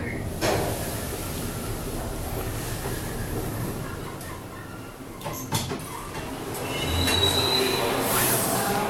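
Otis Series 7 elevator running upward: a continuous mechanical rumble with whining, squealing tones and occasional clunks, fairly close and steady for the whole stretch.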